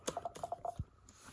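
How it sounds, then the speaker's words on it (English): Typing on an M1 MacBook Air keyboard: about eight light, quick key clicks in an uneven run, close and quiet with no voices. "try out the keyboard"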